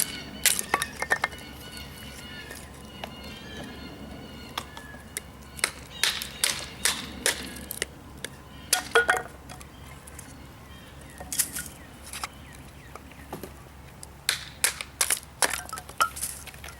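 A SOG Trident Elite knife is batoned through wood outdoors, giving a long series of sharp, close cracks and splitting snaps at an uneven pace over quiet background.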